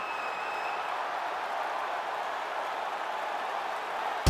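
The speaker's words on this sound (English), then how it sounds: "So the crowd voicing its appreciation after that round" Crowd applause after a round in the UFC 5 video game, a dense, even wash of clapping and crowd noise that holds steady throughout, with a sharp bump at the very end.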